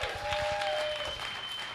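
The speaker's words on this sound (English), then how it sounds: "Please give him a round of applause." Brief burst of audience applause for Ralph Lean at a talk, a dense wash of clapping with faint steady tones underneath, fairly even in level across the short stretch.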